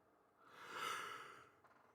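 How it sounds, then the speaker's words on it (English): A single drawn-out yawn into a microphone, close and breathy, rising to a peak and then fading out over about a second. "I yawn right into the microphone."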